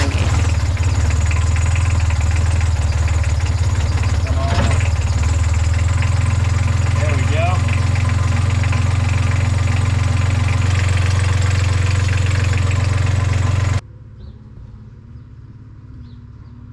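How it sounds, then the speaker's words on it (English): A Yanmar boat engine idles roughly after first startup, a loud, close, steady low rumble with an uneven knock that runs for several seconds before cutting off abruptly. A brief voice speaks over it. "She sounds a little rough on first startup, but the Yanmars are really great at self-clearing air."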